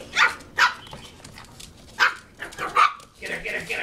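Pug attacking and biting a shih tzu, with sharp yips and barks bursting out in quick clusters at close range while people talk over the scuffle.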